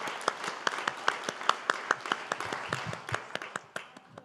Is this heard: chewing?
no